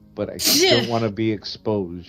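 A single sharp sneeze bursts out during a tabletop Dungeons & Dragons session, close and loud, with people talking just before and after it.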